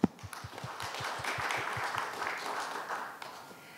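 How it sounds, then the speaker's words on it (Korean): At a startup pitching day, the audience gives the judges a welcoming round of applause. A few isolated claps at the start swell into moderate, fairly distant clapping that thins out toward the end. "다시 한번 환영의 박수 부탁드리겠습니다."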